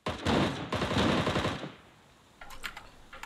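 Gunshots in the game Ring of Elysium crack out in a quick rapid burst for about a second and a half, then a few fainter, more distant shots follow after a short lull.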